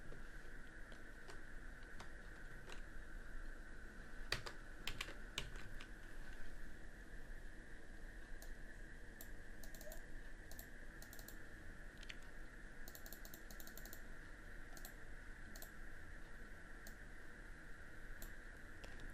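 Keys on a computer keyboard clacking in short irregular bursts as text is typed into a Publisher document, light quick clicks over a steady background whine, no voices.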